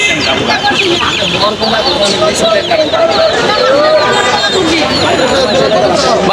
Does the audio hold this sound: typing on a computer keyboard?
no